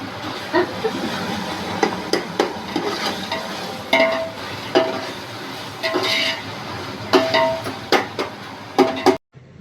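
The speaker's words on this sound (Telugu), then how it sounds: "ఇదేమో మటన్ గ్రేవీ చేస్తున్నాను నేను onions tomatoes oil chilli powder mutton coriander and mint ఇవన్నీ యూస్ చేసి" Mutton gravy made with onions, tomatoes, oil, chilli powder, coriander and mint is stirred and fried in a pan, with repeated scraping strokes of the spoon over a constant frying sizzle.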